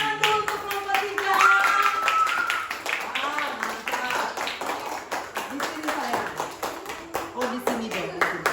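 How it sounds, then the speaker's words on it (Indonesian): A class of students claps for group 3 as it comes forward, a steady patter of hands running throughout with children's voices and chatter mixed in. "Tepuk tangan dulu untuk kelompok 3."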